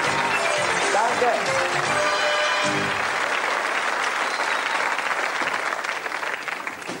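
Studio audience applause at a late-1980s German TV game show, a loud, sustained roar of clapping, with someone speaking over it early on before it tapers slightly toward the end.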